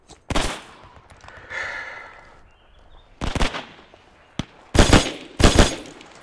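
Machine gun bursts in Hell Let Loose: several loud, clustered volleys of rapid shots come in short bursts separated by quiet gaps, with a hiss of ambience between them.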